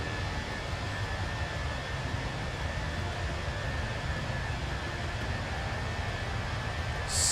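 Airplane engine roar during a takeoff climb in a flight simulator game, a steady broadband rushing drone that holds level throughout with no clear change in pitch.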